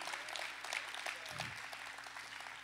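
A church congregation applauds, steady faint clapping heard from a distance with a brief low thump partway through.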